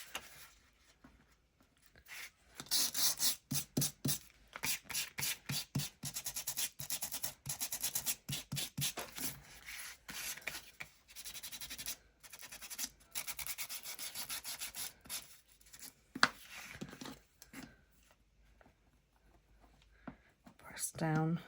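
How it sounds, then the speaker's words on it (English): Sandpaper rubbed over paper sheets for a vintage passport-style junk journal, a run of quick rhythmic scratchy strokes in bursts, close and fairly loud, with soft speech between. "And then again, just sand some of the papers."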